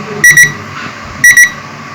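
A digital alarm clock's second-stage alarm beeps in two quick double-beep bursts about a second apart, sharp and high-pitched, close and loud.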